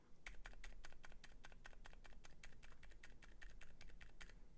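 Keys fitted with Durock Shrimp silent switches are pressed hard in a quick steady sequence, producing close, muted thocks that are a little crisper than fully silent keys, with nothing else heard.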